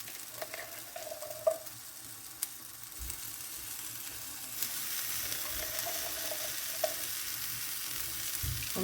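A frittata egg mixture with peas fries slowly in a pan over low gas, giving a faint, steady sizzle with a few soft clicks and taps, and no voices.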